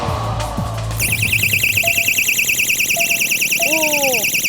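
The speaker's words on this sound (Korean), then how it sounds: "호신용 경보기는 무려 250m까지 소리가 들렸습니다" A personal safety alarm: a piercing, warbling electronic tone suddenly starts and blares continuously at high pitch, loud and close, with faint voices underneath.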